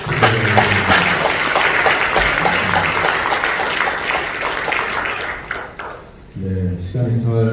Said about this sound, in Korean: 우리 세 분에게 고마운 박수 다시 한번 부탁드립니다.